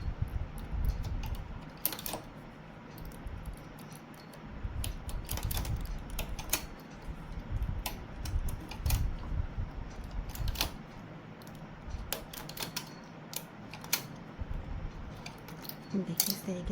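A hand-operated knitting machine works rows of a small child's sweater, its carriage producing a close, rapid clatter of clicks and mechanical rattles in uneven bursts, with a quiet low rumble beneath.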